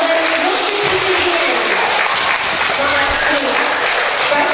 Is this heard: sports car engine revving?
no